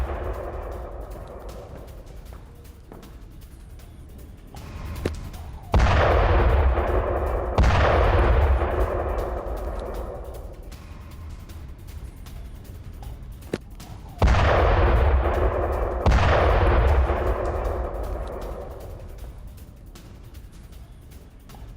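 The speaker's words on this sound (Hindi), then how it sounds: "तो सेवास्तोपोल में रात के वक्त हुए बैक टू बैक ये धमाके" Four heavy missile and drone explosions boom at night in Sevastopol, Crimea, in two pairs, each a sharp blast followed by a long rumbling decay, heard from a distance against a low background hum.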